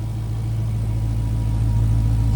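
A supercharged 6.2-liter Hemi V8 in a 2018 Dodge Challenger SRT Demon idles with a steady, close, deep rumble that holds even throughout, with no voices over it.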